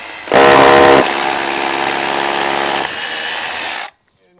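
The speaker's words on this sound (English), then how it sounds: "When I drill it." A power drill bores into the frame while a double glazed window is fitted, a loud whirring burst that starts sharply, settles into a steady grinding drone for about three seconds, then stops.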